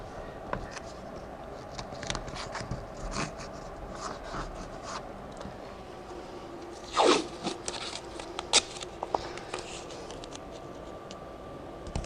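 Painter's tape tears in short, sharp rips, with one long, distinct zip-like tear in the middle of the clip. A few fainter rips follow over quiet background noise during a door replacement, with no talking.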